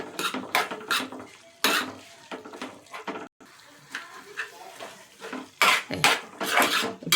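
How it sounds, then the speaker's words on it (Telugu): Tomato chutney being stirred in a pan with a utensil, giving repeated scraping and clinking bursts of metal on metal, close and fairly loud, with a short pause midway. "ఇప్పుడు ఒకసారి కలుపుదాం"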